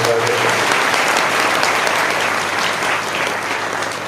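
Loud, sustained applause from a crowd at a religious gathering honouring a revered swami, a dense steady wash of clapping that holds strong throughout before easing slightly near the end.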